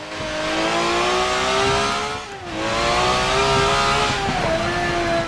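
A race car engine in Forza Motorsport 7 drives a rain-soaked race, a loud sustained whine that dips briefly as the driver lifts off, then climbs and holds again, with no talk.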